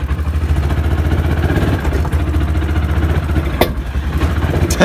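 A Kawasaki Mule utility vehicle engine runs in forward gear with a steady, uneven sputtering putter, loud and close, and a couple of sharp clicks near the end.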